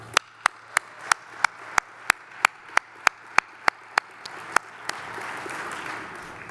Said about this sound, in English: Let's give them a round of applause before they start.